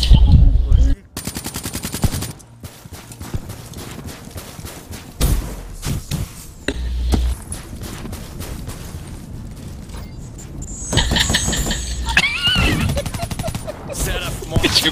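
Rapid bursts of automatic gunfire and single shots in Call of Duty Black Ops 3 gameplay crack out in dense, punchy volleys with thuds and game effects, a player occasionally talking over them.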